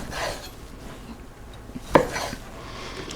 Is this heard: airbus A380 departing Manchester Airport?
no